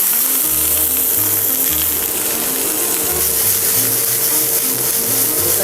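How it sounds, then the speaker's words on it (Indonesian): Shallots and garlic sizzle and crackle in hot oil, a dense continuous frying hiss that stays loud and close, with a low rhythmic hum running beneath it. "Lanjut kita sangrai bawang merah dan bawang putih terlebih dahulu."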